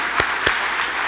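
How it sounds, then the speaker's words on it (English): A conference keynote audience breaks into applause, a dense wash of clapping with two sharper claps standing out, fairly loud and without voices. "let's just give her a quick round of applause"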